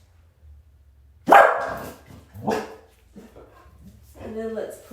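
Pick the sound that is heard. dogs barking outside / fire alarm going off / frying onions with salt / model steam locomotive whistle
dogs barking outside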